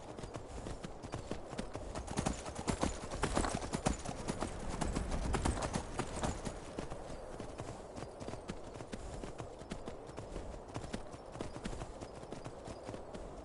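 Rapid clip-clopping horse hooves in the video game Skyrim Special Edition beat steadily and continuously, with a faint background hum and occasional thuds.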